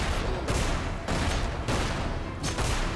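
Gunfire from a gun wielded in the video game Magicka, a loud continuous barrage broken into repeated bursts of roughly half a second, booming and dense throughout.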